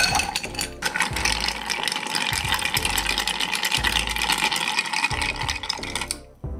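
Ice stirred in a mixing glass for a Vieux Carré cocktail: a continuous dense rattling and clinking of cubes against glass, close and fairly loud, stopping near the end.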